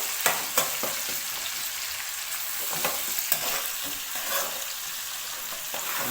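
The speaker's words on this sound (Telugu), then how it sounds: "టమాటాలు బాగా మగ్గిన దాకా ఫ్రై చేసుకోవాలి." Tomatoes and onions fry in a pan for a chicken fry, giving a steady broadband sizzle with occasional sharper crackles and stirring scrapes throughout, close and alone.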